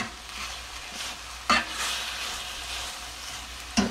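Oyster and wild mushrooms fry in butter in a pan, giving a steady close sizzle broken by two brief sharper clatters, with no talking.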